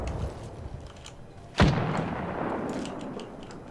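A grenade blast in the video game Apex Legends, one sharp booming explosion midway over a low rumbling background, fairly close, followed by a fading tail.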